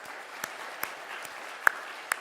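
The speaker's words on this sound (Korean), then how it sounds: "그분들을 위해서도 격려의 박수 주시기 바랍니다." A Sunday morning church congregation gives a round of encouraging applause, heard as a soft, even patter of hands broken by a handful of louder, distinct claps.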